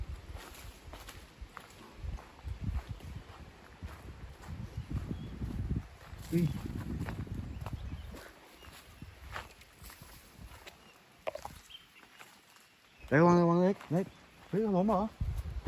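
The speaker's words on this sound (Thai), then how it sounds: "เสียงมันอะไรย่ำมันดังมากทุกคนนะในป่านะ ป่าไผ่เหมือนนะ ย่ำเท้ามันดังมาก" Feet trample loudly through a bamboo forest, crunching and scuffing in an uneven rhythm with stones knocking together, while people talk over the steps and voices grow louder near the end.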